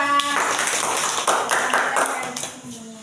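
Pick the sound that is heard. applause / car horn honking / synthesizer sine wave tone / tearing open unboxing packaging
applause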